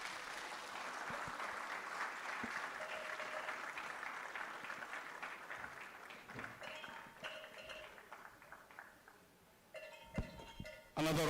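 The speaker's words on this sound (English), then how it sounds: "Another round of applause for the Honorable Regional Minister as he takes his seat" Conference audience applauds the Honorable Regional Minister at a national delegates conference, a steady wash of clapping for most of the stretch that thins near the end, with a few sharper claps and a tonal chime-like sound toward the close.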